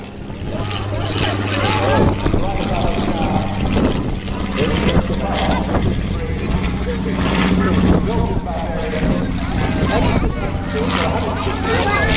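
A 200 horsepower Gipsy-engined propeller plane drones overhead at a WWI air show in Masterton, its engine note rising and falling steadily under loud crowd chatter and a commentator talking throughout.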